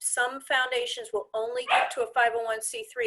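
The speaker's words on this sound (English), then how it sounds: "I apologize that my dog is barking in the background." A dog barks in the background of a finance board meeting, its barks mixed under steady, close speech that continues throughout.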